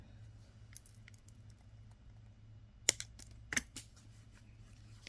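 Scissors trim excess material while earrings are being made, with a couple of crisp snips standing out over faint scattered handling clicks and low hum, close and quiet, no talking.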